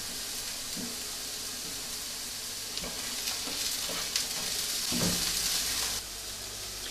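Garlic frying in a pan for a steak pie filling makes a steady close sizzle, with scraping stirs and small clinks of a utensil against the pan. No one talks.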